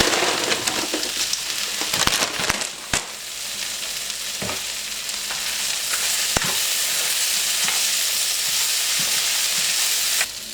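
Vegetables and cashew nuts frying in a pan for a low carb vegan noodle dish, a loud continuous sizzle broken by several sharp clatters and scrapes of stirring, close up with no voices.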